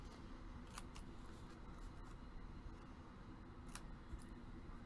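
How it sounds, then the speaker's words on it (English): Scissors snip paper corners for a mini album pocket, cut at an angle: a few sharp, quiet clicks spaced over a steady low background hiss. "let's go ahead and cut out those corners"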